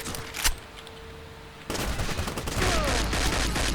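Gunfire in the video game Crysis, first a single sharp shot, then from about the halfway point a dense, loud, continuous burst of rapid shots with heavy rumble, sounding more like sustained automatic fire than isolated pistol shots.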